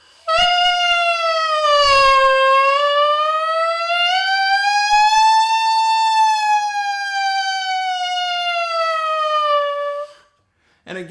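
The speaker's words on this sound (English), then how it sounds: "I'm going to do a siren on the tenor mouthpiece." A tenor saxophone mouthpiece played alone sweeps through a smooth, sustained siren glissando, rising and falling in pitch as one loud continuous reedy tone that cuts off near the end.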